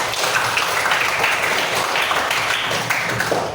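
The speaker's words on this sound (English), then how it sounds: "Give a applause for those" Audience applause for participants, a dense steady wash of many hands clapping at once, fairly loud and sustained throughout, with no talk over it.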